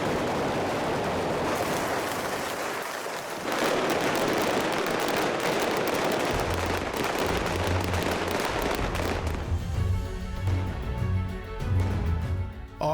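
Rapid bursts of pyrotechnic gunfire crackle and echo across Matera's San Giovanni Battista square during a film shoot, a dense, loud volley that thins into scattered pops and a low rumble.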